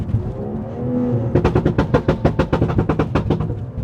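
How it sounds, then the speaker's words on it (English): BMW engine hum, then on a 3-to-2 downshift a rapid series of sharp exhaust pops and burbles, about a dozen cracks in quick rhythm, loud and close. "So let's hit a 3 to 2 downshift and hear the burbles."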